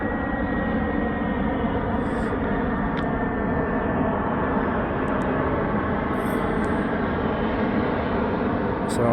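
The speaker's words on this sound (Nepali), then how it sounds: "प्लेन आउँदैछ" A fixed-wing airplane approaches and passes overhead in the early morning, a steady broad engine roar that holds loud and even for several seconds with no talk.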